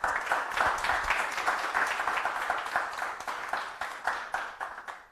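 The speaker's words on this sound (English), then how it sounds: "I think we need a round of applause" A small audience at a launch event for the OrderRite 6.0 software claps steadily, the individual claps distinct and moderately close, fading toward the end. No speech.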